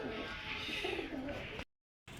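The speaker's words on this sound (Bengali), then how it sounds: "এক পেয়ার গড়া কবুতর দেখাবো" A pair of gora pigeons coos in low, steady, rolling tones for about a second and a half. The sound cuts to silence briefly, then resumes.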